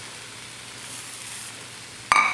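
Shrimp spring roll filling sautés in a pan, a soft, steady sizzle for about two seconds, then a sharp, louder clatter near the end.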